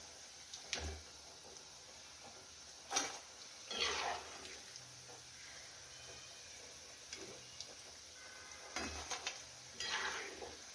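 Khekda bhaji fritters sizzle steadily in hot oil, with a few clinks and scrapes of a utensil against the pan rising over the constant, close frying hiss; no one speaks.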